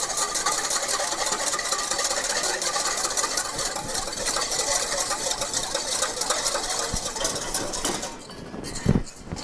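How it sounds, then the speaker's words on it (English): Whisk mixing a cocktail mixture with a touch of sugar at a bar, a fast steady metallic whirring and clattering that runs continuously and loudly up close, then eases near the end with a few knocks. "Now with the whisk, we're gonna mix it."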